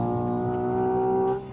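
A Hyundai Ioniq 6 N pulls hard with its artificial engine sound, a loud, steady synthetic drone of layered tones that holds, then drops off sharply at the end.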